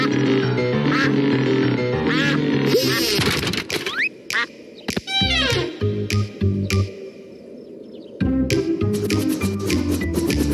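Cartoon duck quacking at the beach in the French-dubbed Pocoyo, rapid squeaky quacks mixed with bouncy musical score and playful sound effects, loud and close, with a short quieter break partway through.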